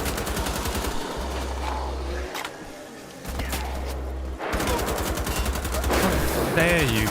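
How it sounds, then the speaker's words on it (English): Rapid automatic gunfire in Wolfenstein: The Old Blood comes in loud, dense bursts separated by brief pauses, with a voice audible near the end. "How dare you shoot me?"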